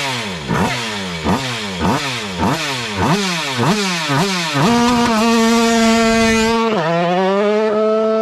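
A drag racing motorcycle launching from the start, its engine screaming through rapid rising revs with sharp shift drops, then settling into a loud sustained high-pitched roar before a final gear change; close, loud and continuous, no talk.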